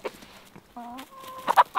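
Chickens cluck and squawk up close as they fight over food, with short clipped calls and a brief tonal squeal in a quick, agitated run.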